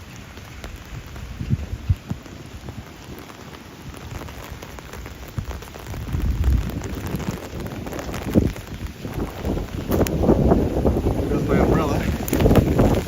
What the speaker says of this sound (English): Wind flipped my umbrella there. It's pretty gusty.